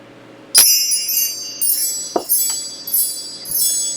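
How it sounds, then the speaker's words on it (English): Wind chimes ring out in bright, shimmering metallic tones, struck several times in loose succession and left to decay, fairly close and clear with no talking. "Let's call in spirit with some wind chime time."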